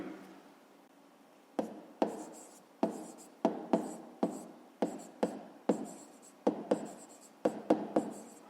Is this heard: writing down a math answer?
yes